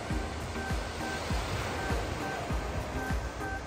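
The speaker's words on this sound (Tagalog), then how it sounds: "Lakas ng alon." Strong ocean waves crash and roll continuously along the cold, rocky spring coast at Ferryland, Newfoundland, a dense, loud surf roar.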